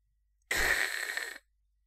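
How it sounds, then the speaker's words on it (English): A single sharp inhale, as if air is sucked through clenched teeth, rises suddenly and holds for about a second before cutting off, clear and close with no talk, from the Doki Doki Literature Club video game. "A sharp inhale, like someone is sucking the air through their teeth."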